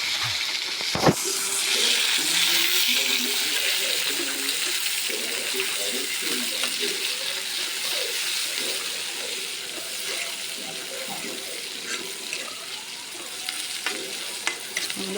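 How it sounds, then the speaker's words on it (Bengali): Chopped onions and chilies fry in a pan with garlic, a constant bright sizzle running throughout with occasional stirring clatter; faint voices murmur underneath. "পেঁয়াজ মরিচগুলো আমার লাল লাল করে ভাজা হয়ে গেছে।"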